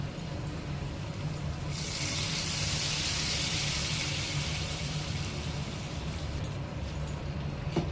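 Fried tempering of spices and red chilli powder is poured into a pot of dal, setting off a steady, loud hissing sizzle that swells after a couple of seconds and holds, with no talking.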